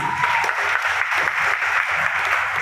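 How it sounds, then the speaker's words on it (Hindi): An audience at a health-plan seminar breaks into continuous applause, a thick, even patter of many hands clapping at moderate loudness throughout. "जबरदस्त तालियां दीजिए।"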